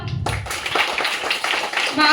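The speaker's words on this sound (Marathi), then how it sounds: "सगळे टाळ्या वाजवा." Children clap their hands in a quick, irregular burst of overlapping claps during a classroom game, mixed with voices chattering close by.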